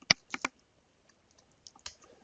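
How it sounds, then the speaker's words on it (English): Typing on a computer keyboard while writing a script element, a few sharp key clicks in short bursts separated by quiet gaps, close and clear with no talk. "and start typing"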